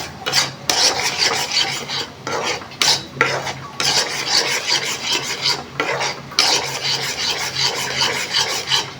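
Gram flour laddu mixture being stirred in a pan, with repeated scraping and rasping strokes of a spoon against the metal, loud and close in an uneven rhythm with brief pauses.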